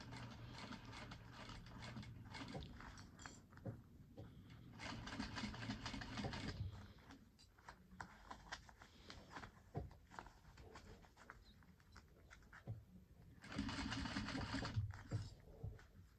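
A sewing machine stitching binding on a pack runs in quiet bursts with pauses and mechanical clicks between runs, faint and close.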